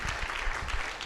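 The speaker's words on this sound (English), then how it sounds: "Round of applause." Brief applause from an audience at a small business networking event, a steady patter of clapping lasting about a second.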